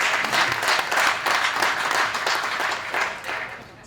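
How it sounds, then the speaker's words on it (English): Audience giving a round of applause for newly launched safety officers in Nelson Mandela Bay, a strong sustained burst of clapping that rises and dips in waves and tapers at the end. "Round of applause for them."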